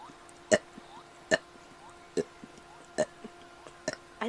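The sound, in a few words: burping, seven burps in a row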